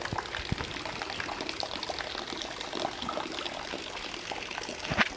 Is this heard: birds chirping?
no